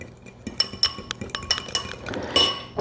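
A utensil stirs sugar, flour and cinnamon filling in a glass bowl, making irregular bright clinks and taps against the glass, some sharp and close, over a soft scraping background with no talking.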